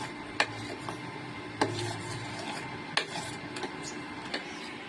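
A melted mixture with ghee for peanut laddu is stirred in a pan, making soft scraping under a low background hum, with sharp utensil clinks against the metal roughly every second.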